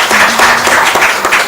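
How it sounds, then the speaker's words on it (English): A brief burst of dense audience applause, many hands clapping together loudly and close. "can we have a big round of applause for all our panelists over here?"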